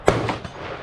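A single sharp, loud report from a Snider Enfield short rifle at an outdoor shooting session, with a quick decaying echo afterward.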